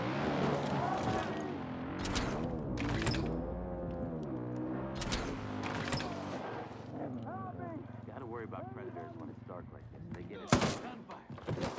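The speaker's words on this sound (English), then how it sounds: "Gunfire!" Bursts of gunfire crack out in a Far Cry New Dawn game scene, scattered shots over background music and talking, with one sharp loud blast near the end.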